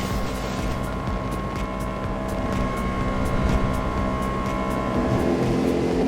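A Highfield Velox 420 inflatable jet boat with a Rotax engine runs across open water, a loud steady engine drone mixed with rushing water and wind buffeting the microphone.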